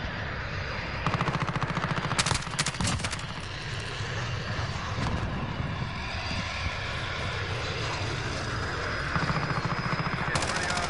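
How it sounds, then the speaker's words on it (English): Rapid machine-gun bursts crackle over a constant droning aircraft engine during a video game air battle, the firing coming in short loud volleys amid the roar. "Striker, we're taking some fire."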